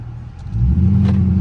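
A Dodge Charger R/T engine revs up while driving through city streets early in the morning, a deep rumble swelling loudly after a brief quieter start and holding steady and close.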